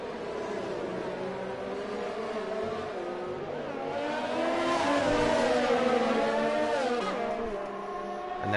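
Formula 1 race cars screaming past in a video game race at Vietnam, high-pitched engines rising and falling as two Ferraris run close together, loud and continuous with shifting whine.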